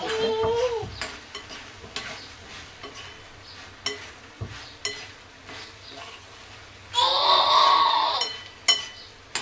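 A vegetable dish is stirred while it fries in a pan, with intermittent spoon scrapes and clinks against the metal. Near the end comes a loud burst of sizzling, and no one speaks.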